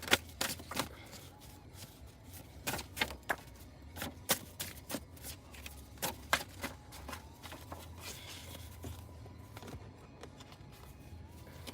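Tarot cards being shuffled by hand in repeated quick riffling bursts, close and fairly loud, with brief pauses between handfuls and no talking.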